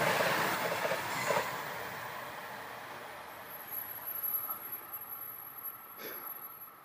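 A train rolls past on railroad tracks, a steady broadband rumble of wheels and cars with a high metallic wheel squeal joining partway through, moderately loud and close, with no talk over it.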